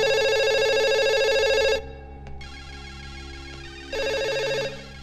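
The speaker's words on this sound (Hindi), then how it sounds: "फोन बज रहा है" A telephone rings loudly in a bright, rapid electronic trill, stops, then starts a second burst after a brief pause, heard alone.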